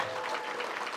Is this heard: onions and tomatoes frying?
no